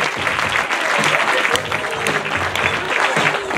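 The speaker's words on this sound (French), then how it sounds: "On les applaudit." A crowd applauds steadily throughout at a children's film festival, a dense wash of clapping with no pauses and no voices rising above it.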